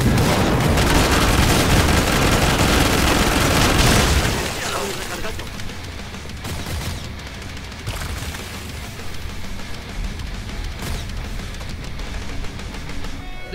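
Heavy gunfire in Killing Floor 2 roars in a dense, continuous barrage for the first few seconds, then drops to scattered shots and bursts under a quieter game background.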